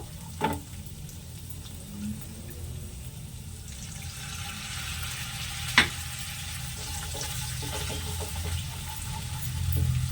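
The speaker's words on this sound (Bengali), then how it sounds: "মশলাটা ভাজা হয়ে গেছে, তো এখানে মিক্সচার জারটা ধুয়ে সামান্য একটু জল অ্যাড করব।" Fried masala for restaurant-style masala paneer cooking in a pan after a little water is added, a soft, low simmering hiss with a couple of brief utensil clinks, fairly quiet.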